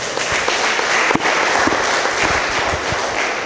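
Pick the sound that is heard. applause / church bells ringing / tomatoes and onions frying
applause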